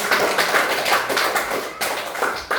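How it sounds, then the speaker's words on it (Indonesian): A group claps hands in a classroom setting after a school exercise session, a loud rapid run of overlapping claps lasting a few seconds with brief dips in the rhythm. "tepuk tangan"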